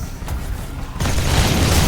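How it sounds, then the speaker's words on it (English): Rockets explode in The Riftbreaker, a dull low boom that swells suddenly after a quieter start into a dense, loud rumbling blast. "What if I just keep shooting these rockets at it?"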